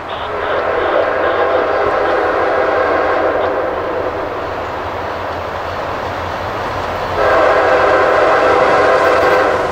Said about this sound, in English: Notice how a train horn sounds in a remote, quiet pine forest versus a busy urban area.